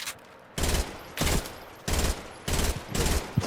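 Bursts of video-game gunfire in a basketball-themed online game, five loud broadband volleys separated by short pauses, close and harsh with no talk over them.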